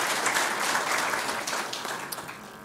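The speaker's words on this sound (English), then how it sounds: "I think they deserve a clap." An audience applauds customs officers at an International Customs Day event, a dense burst of clapping from many hands that slowly thins and fades.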